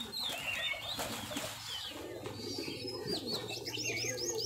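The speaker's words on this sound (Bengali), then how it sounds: "এই কবুতর যেটা সেল হবে।" Giribaz high-flyer pigeons kept for sale make soft low cooing with scattered chirps and brief wing flutters, fairly faint and close, with no talking.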